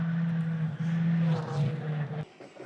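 An older Skoda R5 rally car roars along a stage at the Goldrush Rally in Coromandel, its engine droning loud and close with brief dips between gear changes before cutting out sharply.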